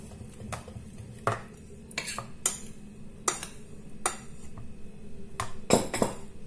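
A utensil stirring Turkish bread dough with sugar and yeast in a bowl, giving a series of sharp clinks and scrapes at irregular intervals over a quiet background.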